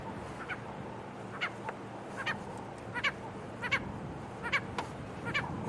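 Short, repeated chirps of a purple roller come in irregular bursts at moderate distance over a constant rush of wind noise on a safari drive.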